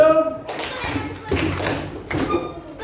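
Schoolchildren in an Indonesian classroom clap out a group clapping pattern together, three distinct bursts of hand claps and thumps spaced evenly apart, with voices mixed in.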